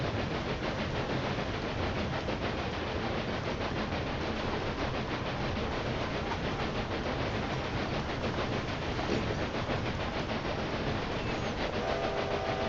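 Trains run in Railway Empire 2 with a steady, dense rolling rumble and hiss that carries on unbroken throughout, and no voices.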